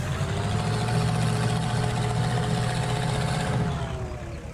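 Hummer H3 off-roader in the SpinTires driving game, its engine droning steadily at a low idle with a faint whine on top, loud and close the whole time, easing off slightly near the end.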